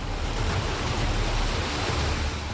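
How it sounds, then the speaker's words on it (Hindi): The swollen Alaknanda river at Rudraprayag, Uttarakhand, in monsoon flood gives a dense, unbroken roar of rushing water, loud and constant throughout. "रुद्रप्रयाग में देखिए कैसे अलकनंदा उफान पर है"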